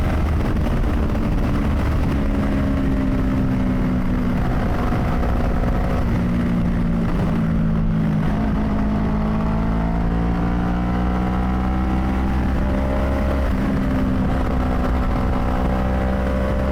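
A Yamaha YZF-R3 motorcycle leans through a run of curves, its engine droning loud and close with a drawn-out note that rises and falls between throttle changes, under heavy steady wind noise.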